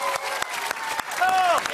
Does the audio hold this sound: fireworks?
no